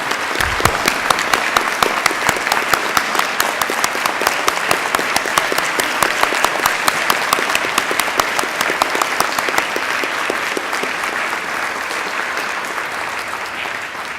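Sustained, dense applause from an audience at a monthly society meeting honouring its founders, steady and loud for over ten seconds before easing slightly toward the end, with no voices rising above it.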